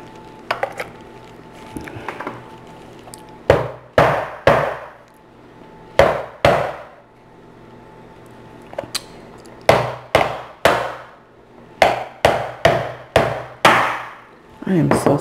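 A gigantic lobster claw's hard shell being banged to crack it open, a series of sharp loud knocks arriving singly and in quick bunches, close up, with quiet gaps between them.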